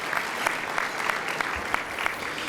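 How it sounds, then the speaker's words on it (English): An audience at a jazz brunch applauds in a steady burst of many hands clapping, with scattered sharper claps standing out near and clear throughout. "Give a big round of applause to our friend, my friend, Governor John Bell Edwards."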